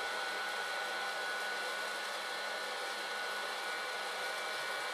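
Modified popcorn popper roasting green coffee beans early in the drying stage, giving a constant loud, close fan-like whoosh with no change throughout.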